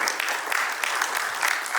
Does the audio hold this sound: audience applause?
yes